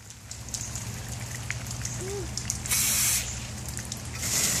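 Water spraying during outdoor water play, a steady hiss with louder bursts of spray toward the end, heard close with faint voices in the background.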